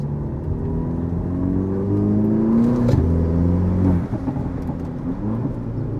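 A VW Polo GTI driven in sport mode with manual shifting: a loud, close engine drone with an in-cabin whir climbs in pitch under acceleration, drops briefly at a gear change, then rises again, with no voices.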